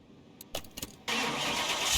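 A car engine in Car Mechanic Simulator 2021 cranks over with a few sputtering bursts, then catches and runs at a loud, steady roar on the dyno.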